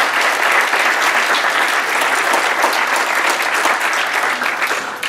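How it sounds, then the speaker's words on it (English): An audience at a transportation industry breakfast applauds a homeless coalition's staff with loud, sustained, dense clapping that holds steady for several seconds and tapers slightly at the end. "would you join me in one more round of applause for these incredible people?"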